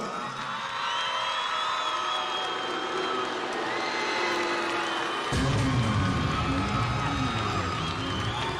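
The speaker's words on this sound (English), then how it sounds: "Ladies, if you loved our first act tonight, give them a great big round of applause." A live audience cheers and applauds for an opening act at a girl-group concert, a steady wash of crowd noise that swells louder partway through, with whoops rising above continuous clapping.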